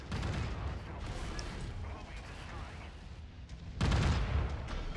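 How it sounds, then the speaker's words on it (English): Rapid bursts of AC5 autocannon fire from a Jagermech in MechWarrior 5, a dense rumbling barrage running throughout with a louder, heavier volley near the end. "I love that burst fire."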